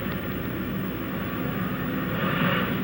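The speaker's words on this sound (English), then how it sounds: "turbo engines of this helicopter wind up." Steady, loud turbine whine and engine roar of a presidential helicopter's turbo engines powering up in 1974, a rising high-pitched tone building over a continuous low rumble.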